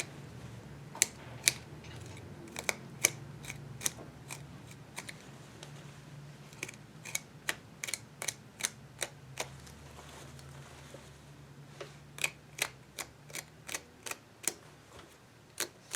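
A small blade snaps through the stitches of a jeans zipper flap, a quick series of sharp, faint ticks in clusters with short pauses between, close up and quiet.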